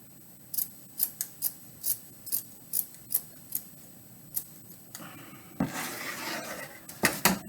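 Scissors snip through a sock about a dozen times in a steady, evenly spaced rhythm, close and crisp, followed by a burst of rustling fabric handling and a few final quick snips.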